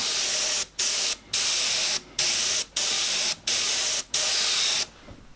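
An airbrush sprays paint onto a skull design in repeated short bursts: seven or eight steady hissing blasts, each about half a second long, separated by brief silent gaps, close and clear.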